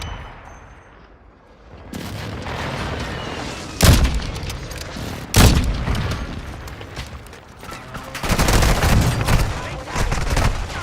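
Gunfire and heavy booms ring out in a Call of Duty Warzone Resurgence match on the Vondel map, with loud blasts and rapid bursts over a dense battle din.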